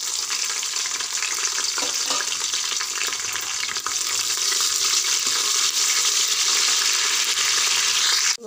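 Cloves, cardamom, cinnamon, a bay leaf and green chillies sizzle in hot oil for a mutton curry, a steady, bright crackling fry with light stirring, close and continuous.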